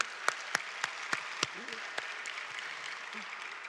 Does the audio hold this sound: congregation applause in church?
yes